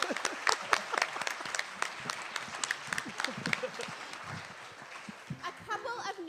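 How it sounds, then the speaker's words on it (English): An audience at a Broadway revue concert applauds the musical director, a dense burst of clapping that fades slightly, with voices talking near the end. "let's give a round of applause for our musical director, Ben Childress."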